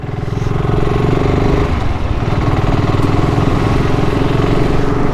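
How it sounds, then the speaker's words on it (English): A motorcycle engine rumbles loudly at close range with a throbbing, steady exhaust note and a slight rise in revs partway through. "Very different exhaust note to the 650 twin."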